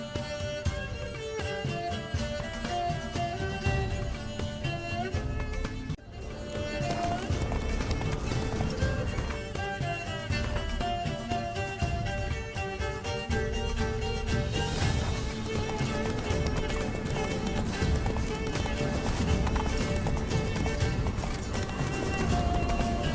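Hooves clip-clop rapidly as the horse gallops in The Witcher 3, steady and driving beneath dense game music, with a brief neigh mixed in.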